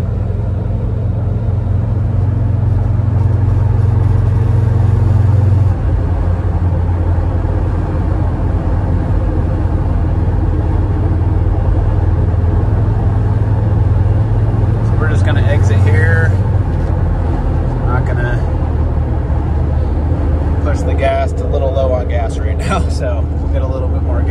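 A 1995 Toyota Land Cruiser FZJ80 cruises down the road at 65 mph, a loud steady low engine and road drone filling the cabin throughout, with someone talking over it.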